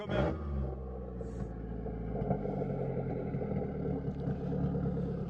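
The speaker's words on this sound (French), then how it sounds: "elle fait du bruit, hein, cette petite voiture" A loud, rumbling small car engine in GTA idles and revs steadily up close, a throaty low drone with slight surges throughout.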